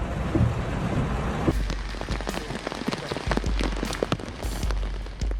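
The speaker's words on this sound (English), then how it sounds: "With up to 95 millimeters of rain falling within just 1 hour in Naha, streets turned into fast-flowing rivers" Torrential rain pours in Naha, Japan, during a rare downpour that floods the streets, giving a dense, continuous hiss with close, sharp drips and splatters throughout.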